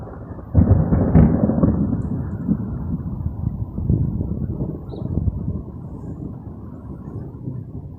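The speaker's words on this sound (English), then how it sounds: "Storm is coming." Thunder from an approaching thunderstorm rolls in with a sharp crack early on, then long low rumbling that swells and fades at moderate distance, alone without talk.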